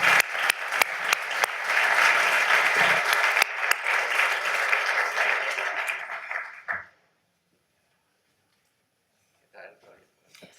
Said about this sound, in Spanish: al que aplaudimos, además de aplaudir a los miembros de la mesa que en este momento bajan